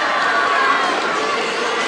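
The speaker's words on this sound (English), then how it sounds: "This is far and away the biggest crowd we've seen." Large crowd of football fans filling the stands and upper deck at a high school game, a steady dense roar of chatter and cheering throughout.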